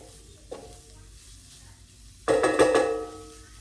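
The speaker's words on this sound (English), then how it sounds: "Stir this around, kind of get it all incorporated here." Tomato paste being stirred into a pot of red beans, a soft scrape at first, then a louder burst of sizzling and spoon scraping near the end, heard close with no talking.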